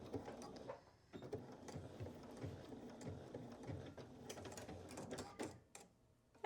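A sewing machine understitching a dress seam in knit fabric, a soft continuous mechanical whir with light rhythmic ticking, fairly quiet and close.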